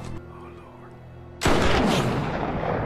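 A single loud gunshot from a Sharps carbine in the 2010 film True Grit booms out abruptly after a quiet stretch and rolls on into a long, heavy decay.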